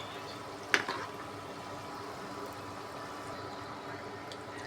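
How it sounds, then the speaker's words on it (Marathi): Urad dal bhaji fry in hot oil with a steady, soft bubbling hiss, broken early by one sharp click, heard close by. "मस्त लाल गुंद होईपर्यंत तळून घ्यायचे आपण याला"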